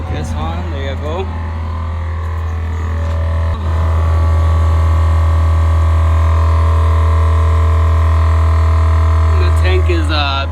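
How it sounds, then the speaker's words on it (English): A HornBlasters train horn kit's air compressor on a GMC truck runs steadily, filling the air tank with a loud, constant droning hum that grows slightly stronger midway, with a voice talking over it at the start and end. "The tank is pumping up."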